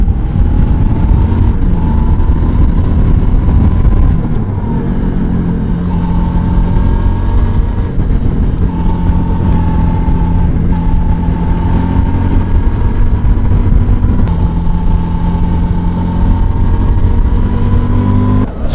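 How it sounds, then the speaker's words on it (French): A Suzuki 650 V-Strom motorcycle rides along a winding country road, its engine droning steadily and loudly throughout with repeated rises and dips in pitch as the rider shifts and accelerates, with no voices. "c'est l'occasion de faire tourner la bécane sur cet itinéraire"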